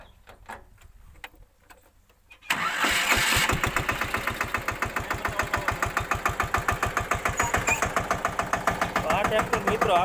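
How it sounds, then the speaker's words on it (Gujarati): A Massey Ferguson 5118 tractor with a single-cylinder engine and 211 hours of running cranks and catches after a quiet start. It settles into a steady, loud, thudding idle with a regular knocking pulse. "હવે મિત્રો હું તમને ટ્રેક્ટર ચાલુ કરીને બતાવી દઉં કે આનો અવાજ"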